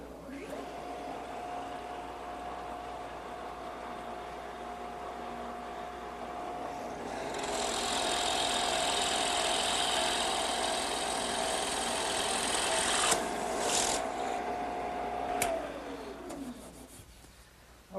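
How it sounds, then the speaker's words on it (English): A drill press fitted with a 1-inch bit whines steadily, then bores into wood, adding a louder, broader grinding roar for several seconds before spinning down. "I just put a 1-inch bit in my drill press."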